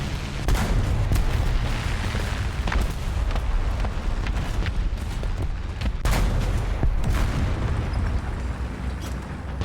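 Tank cannon fire in War Thunder, with a Sherman and Panzer IVs in battle, brings a dense rumble of booming shots and explosions, a few sharp near blasts standing out over constant low battle noise.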